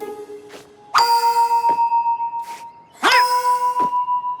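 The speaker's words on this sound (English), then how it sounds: "Do you mind bonging the gongs again?" Two metal gongs are struck one after another, each a bright clang with a long steady ringing tone, close and loud, with faint brief thumps between the strikes.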